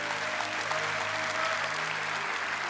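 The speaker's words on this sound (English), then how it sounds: "One more time, can we clap together?" A church congregation claps together in steady, dense applause that fills the room at an even, fairly loud level from start to finish, with a low hum or tone underneath and no clear voices.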